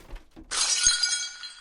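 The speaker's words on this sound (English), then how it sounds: "sending a porcelain figurine shattering to the floor" A porcelain figurine smashes on a hardwood floor with a sudden bright crash and a shower of ringing shards. A couple of dull thumps come just before and during it, and the jangle trails off.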